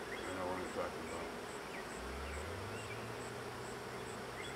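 Honeybees swarm around an open five-frame hive in a steady, dense buzz close by, with individual bees droning past and a low hum rising and falling beneath.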